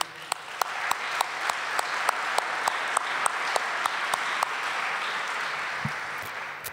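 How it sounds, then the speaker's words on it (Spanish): A church congregation applauds to welcome a newly baptized member, steady, moderately distant clapping with a few sharp, evenly spaced louder claps standing out up close. "Parate, Leo, te vamos a dar un aplauso de bienvenida."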